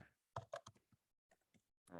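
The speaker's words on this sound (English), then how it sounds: "let me just type here" Someone types on a computer keyboard in quick, uneven bursts of close clicks, with short pauses between groups of keystrokes.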